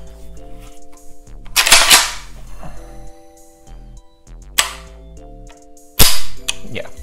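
A Zastava ZPAP90 AK-pattern rifle in .223 has its trigger pulled and reset, with three sharp, close metallic snaps spaced a few seconds apart and quieter handling clicks between them.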